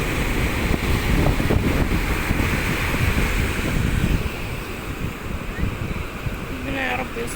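High sea waves breaking on a beach in rough weather, a loud surging wash of surf with strong wind buffeting the microphone, easing slightly toward the end as someone talks over it.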